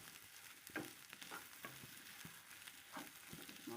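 Potato pieces with cumin, coriander powder and mixed spices fry in a pan for an Assamese rohu fish curry, giving a steady soft sizzle broken by the occasional stir or scrape.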